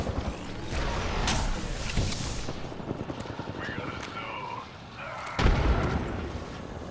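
A frag grenade goes off in a first-person shooter match, one sharp booming blast near the five-second mark over a dense bed of game noise and continuous talk.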